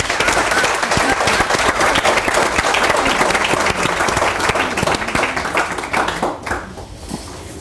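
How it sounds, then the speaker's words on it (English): A large audience applauds steadily to welcome a speaker at an opioid crisis event, the clapping dense and sustained before thinning toward the end. "So with a round of applause"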